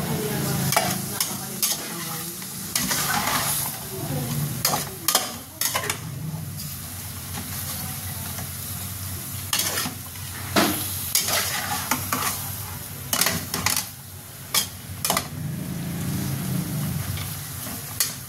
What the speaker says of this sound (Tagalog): Then, high fire yan, guys, kasi nagigisa pa lang.